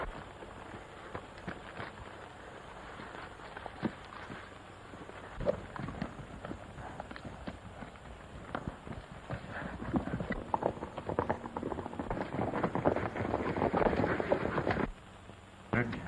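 Hooves clip-clop steadily at a trot, growing louder and busier as several horses move close by, with voices faintly mixed in.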